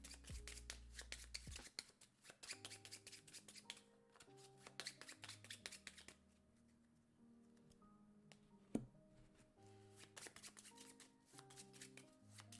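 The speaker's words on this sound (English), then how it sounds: "we are going to put these back into their respective decks, and we are going to shuffle those all up" Card decks for the tabletop game Critter Kitchen are shuffled in quick riffling bursts, several rounds close by and fairly quiet, over soft background music with no talk.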